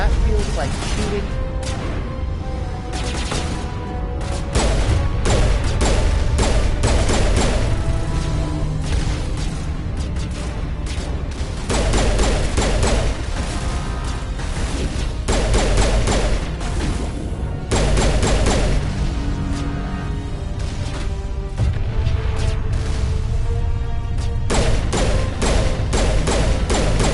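A firefight in the Mass Effect video game, with a turret joining in: sustained loud volleys of gunfire and heavy thumps roll on in waves while a voice talks over them.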